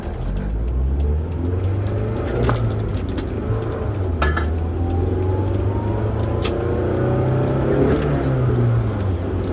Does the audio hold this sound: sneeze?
no